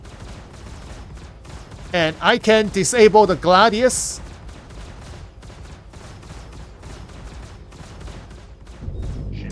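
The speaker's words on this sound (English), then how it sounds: "If I'm using distortion cannons shooting at the power plant" Distortion cannons in Star Citizen hammer a Gladius's power plant: a dense burst of rapid, buzzing pulses, then a longer stretch of quicker repeating shots, all under someone talking.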